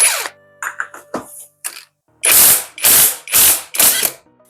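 A ratchet socket tool turning to open a car's oil filter housing, a few short clicks followed by four loud, even bursts of rapid ratcheting, close up with no voices.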